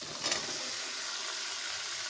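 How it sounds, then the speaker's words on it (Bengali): Cut jackfruit pieces fry with cooked-down spices in a pan, making a soft, steady sizzle that stays fairly faint and even, with a slightly brighter burst near the start. "এবারে কেটে ধুয়ে রাখা এঁচোড়গুলো দিয়ে দেব"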